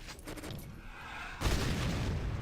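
An Iron Blast weapon explosion from the Doom mod Back to Saturn X booms in the video game, a sudden loud burst partway through that follows a rumbling lead-in and then fades out.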